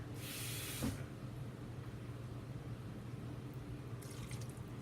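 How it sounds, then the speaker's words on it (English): Water poured into a simmering pot of vegetable curry with chickpeas and potatoes, a short hissing splash of liquid in the first second over a steady low kitchen background. "So I'm going to go and add another half a cup of water."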